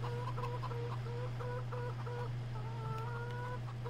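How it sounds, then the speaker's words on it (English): A rooster in the Farming Simulator 2013 video game clucks in a faint, repeated, rhythmic pattern through a steady low hum, with no talking. "I can hear him crowing."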